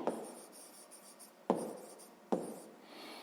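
Numbers being written by hand in a notebook: pen strokes scratching across paper close up, with three firm taps as the pen lands to start new marks, in a quiet room.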